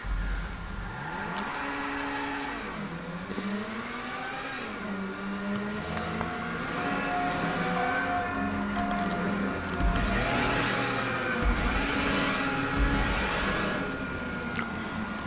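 A car engine in a racing video game revs and accelerates continuously, its pitch sweeping up and down through gear changes. The motor sound is loud and sustained, with no talking over it.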